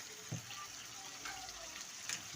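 Water pours into potato curry gravy (aloo bhujia) cooking in a pan, a soft, faint splashing and trickle that lasts a couple of seconds with a few small bursts.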